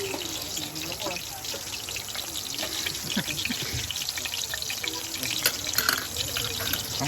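A spoon is washed under a running tap, with a steady stream of water and small clinks and splashes. Quiet voices can be heard faintly in the background.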